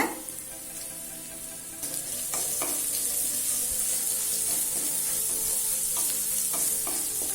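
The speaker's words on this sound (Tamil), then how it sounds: "பூண்டை நல்லா பச்சை வாசனை போக வதக்கிக்கோங்க" Chopped garlic sizzles steadily in a hot pan for garlic pepper rice, with occasional scraping stirs of a utensil, close and continuous.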